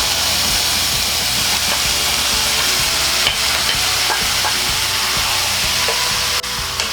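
Pork stirred and sautéed with onion and garlic for adobo, a loud continuous frying hiss with repeated scraping and stirring clatter throughout, no talking.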